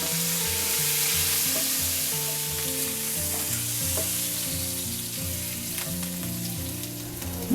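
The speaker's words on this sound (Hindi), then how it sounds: "तेल गरम हो गया है। 1 छोटी चम्मच जीरा डालेंगे। 1/4 चम्मच हींग, 6 से 7 करी पत्ता" Cumin seeds, a pinch of asafoetida and curry leaves sizzle in hot oil, a steady close crackling hiss that runs the whole time beneath a melodic music backdrop.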